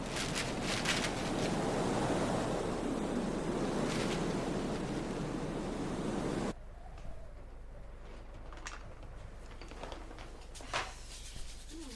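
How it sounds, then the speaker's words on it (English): Outdoor wind blows on a windy day as a strong, steady broadband rush buffeting the microphone, which drops suddenly to a softer, calmer gusting background with occasional faint knocks. "It's only the wind."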